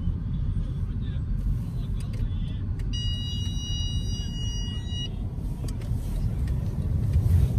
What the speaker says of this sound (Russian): Мусоровоз.